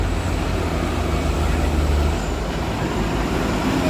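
A steady low truck engine drone with broadband road-like rumble, continuous and fairly loud throughout, climbing Bukit Kodok hill.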